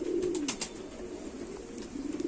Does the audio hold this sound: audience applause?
no